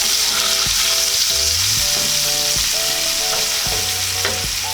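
Garlic and onion sauté in a hot pan for a Filipino pork and beans dish, giving a loud, steady sizzle throughout with occasional scraping stirs of a utensil against the pan.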